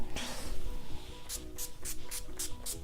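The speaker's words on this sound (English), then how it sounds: "To set my face today, I'm going to be using the NYX Dewy Finish Setting Spray." Several short bursts of NYX Dewy Finish Setting Spray hiss in a steady rhythm, close by, each a quick puff with brief gaps between.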